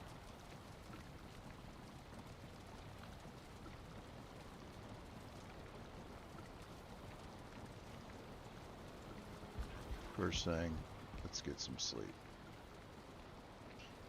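Steady rain in the survival video game Valheim, a continuous broadband patter running through the whole stretch, with a voice speaking briefly over it near the end.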